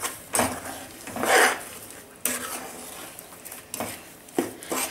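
Chopped strawberries stirred in a cooking pot for jam, with a few spoon scrapes and clinks against the pot in separate bursts, close and fairly clear, with no talk.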